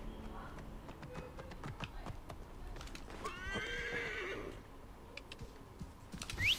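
A horse in Assassin's Creed Origins lets out a clear whinny midway through, accompanied by clip-clopping hooves and faint keyboard tapping.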